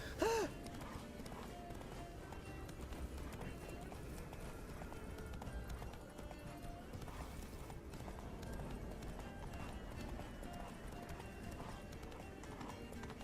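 Roach the horse gallops in The Witcher 3, a continuous run of fast hoof clip-clops kept at a fairly quiet level for the whole stretch, beginning with a brief whinny and breathy horse sounds.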